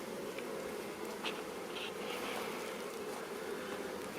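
Honeybees drone steadily from an opened hive, a dense, continuous buzz holding at one level throughout, close and fairly loud with no voices over it.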